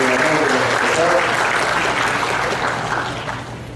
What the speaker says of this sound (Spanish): Los aplausos al señor decano de los diputados, al señor gobernador de la facultad.